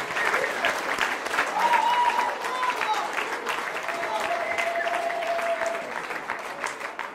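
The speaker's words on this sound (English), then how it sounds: "I think we ought to give a loud round of applause to Sue and Dawn and those who worked on this" A roast-and-toast banquet audience gives a sustained, even round of applause lasting several seconds, with a few voices calling out over the clapping.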